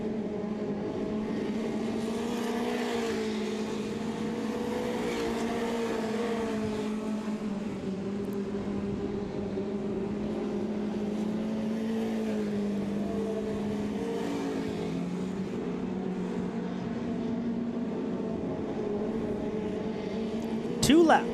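Mini mod race cars in a dirt track heat race at Southern Ontario Motor Speedway, engines droning steadily together at mid distance throughout, with a race announcer talking over the noise.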